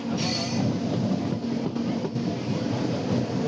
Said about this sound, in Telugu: ట్రైన్ మాత్రం చాలా స్పీడ్ లేపుతున్నాడు